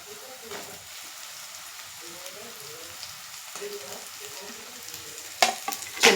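Potato pieces added to already fried onions in a pan give a soft, steady sizzle, close by, with light stirring clatter and a few louder knocks near the end over a faint tonal background.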